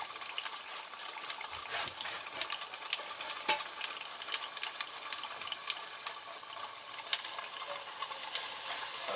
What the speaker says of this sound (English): I'm just refilling the Ln2 flask that I use.